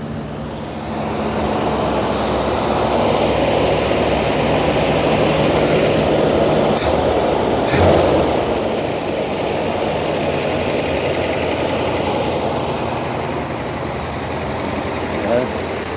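A 1956 Ford Thunderbird engine idles steadily on a cold day, running a little rough as the automatic choke works, with a continuous loud drone throughout and a couple of brief sharp clicks midway.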